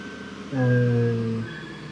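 Reversing beep from a farm vehicle in Farming Simulator 15, a single steady tonal tone lasting about a second, loud over quiet game background noise.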